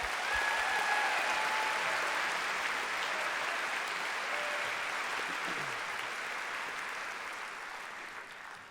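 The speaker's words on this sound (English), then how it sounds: "Let's give a round of applause for the second half of our show." An audience at a fashion show claps steadily for several seconds, a broad, even wash of applause that slowly tapers off toward the end, with no one speaking over it.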